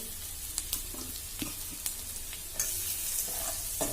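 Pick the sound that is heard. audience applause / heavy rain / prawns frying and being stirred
prawns frying and being stirred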